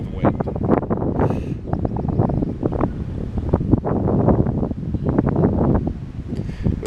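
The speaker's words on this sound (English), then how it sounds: "It's just the wind." Wind buffeting the microphone on a mountain lift ride up to Anakeesta in Gatlinburg, Tennessee, a loud, continuous rumbling gust with rough low roar throughout.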